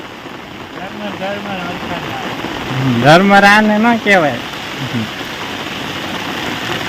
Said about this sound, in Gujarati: એટલે આમાં પાણી દેખાવા માંડ્યા એટલો વરસાદ આવ્યો